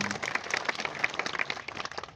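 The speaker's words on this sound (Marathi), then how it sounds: "सगळ्यांनी खरोखर मनापासून टाळ्या वाजून त्यांचा आभार" An audience at a farmers' rally in Limboni, Jalna claps to thank the speakers, with dense, uneven clapping that carries on steadily throughout.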